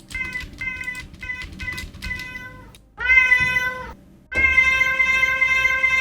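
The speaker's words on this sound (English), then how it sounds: "we are using the meow sound" Repeated cat meows, some short and clipped, others long and drawn out, set over a steady rhythmic beat in a music track.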